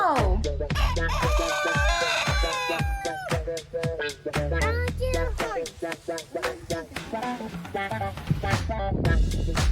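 Farm chickens clucking and squawking in quick, overlapping calls, close and fairly loud, with a rooster-like crow among them, continuing throughout.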